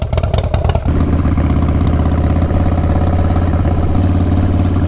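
A motorcycle engine sputters and revs unevenly for under a second, then settles into a steady, loud, rumbling idle close by, with no talk.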